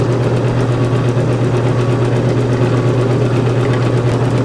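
A Delta DP300L drill press runs with a wobble, producing a steady low motor hum and rattling vibration that stays loud and unchanging throughout.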